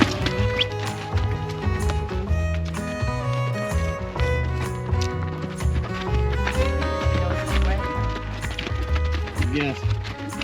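Donkey hooves clip-clop on a ride at the Boquillas, Mexico border crossing. A steady run of close hoof knocks sounds amid busy background noise and voices.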